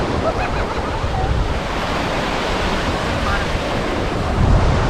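Sea waves breaking on Gimli Beach in Manitoba, Canada, a steady loud roar of surf with wind buffeting the microphone throughout, continuous and close with no clear gaps between breakers.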